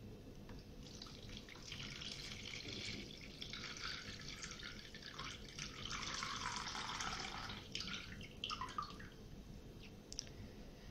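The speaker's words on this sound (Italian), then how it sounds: "andiamo a versare il contenuto in questa vaschetta" A lemon, water and sugar mixture for lemon granita poured into an ice-cream tray, a steady liquid splashing and trickling that runs for several seconds close by, with no talking.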